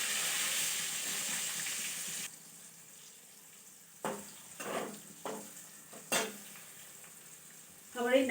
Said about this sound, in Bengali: এবার কুমড়োটা ভাজছি।